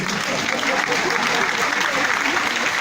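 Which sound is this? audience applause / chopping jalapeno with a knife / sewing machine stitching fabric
audience applause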